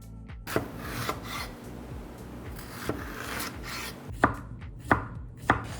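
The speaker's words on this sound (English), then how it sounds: "I'm gonna chop a little bit of cucumber." Knife chopping cucumber on a cutting board for a salad: irregular crisp chops, several distinct cuts spaced apart, close and fairly quiet with no talking.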